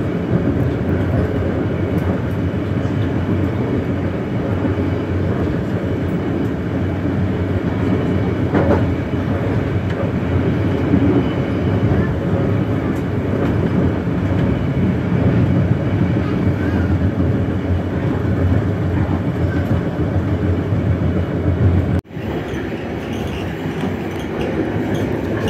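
Banyu Biru executive class train running slowly over unstable ground, a loud steady rumble with rattling and clatter from inside the coach as it shakes, ending with a sudden sharp jolt near the end.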